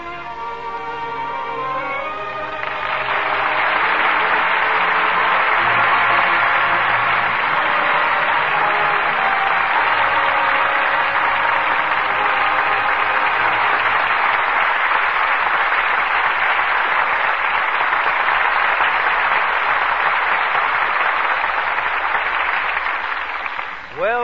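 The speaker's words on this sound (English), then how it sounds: "well-deserved applause for two superb performances from Joseph Cotton and Ida Lupino." An audience applauds at the close of a radio drama performance, a dense sustained wash of clapping that builds after a brief lead-in and holds steady for about twenty seconds.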